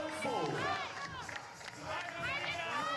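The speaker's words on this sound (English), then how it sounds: "You see the Romanian women cheering on the men's team." Romanian women cheer from the stands at a 3x3 basketball game at the 2015 European Games in Baku, a lively crowd of shouts and high voices rising and falling, with a commentator talking over it.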